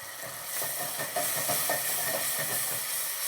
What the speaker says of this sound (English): We're gonna deglaze it all with a little bit of brandy.